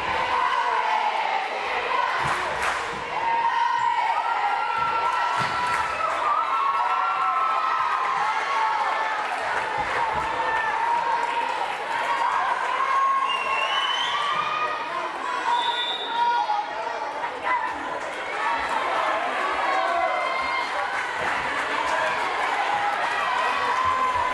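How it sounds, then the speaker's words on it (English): At a girls' high school volleyball match between Barnstable and Medfield, the Barnstable JV team cheers on the varsity from the stands. A steady gym din of shouting voices and crowd noise carries on throughout. "Barnstable JV team trying to cheer on the varsity."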